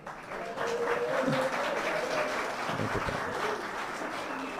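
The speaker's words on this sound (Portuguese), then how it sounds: "Obrigado pelas palmas, que me envaidecem de sobremaneira" Audience applause at a Brazilian political talk event, a steady wash of clapping filling the room for several seconds with a faint voice or two underneath.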